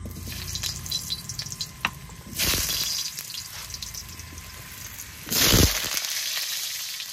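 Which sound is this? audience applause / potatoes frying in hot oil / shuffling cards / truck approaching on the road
potatoes frying in hot oil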